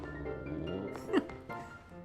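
A Pokémon's bark from Pokémon Scarlet, a short sharp yelp in the middle of quiet game music and ambient sounds, not very loud.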